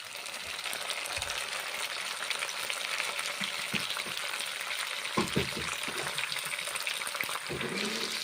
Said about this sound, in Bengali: টমেটো ভেজে নিচ্ছি।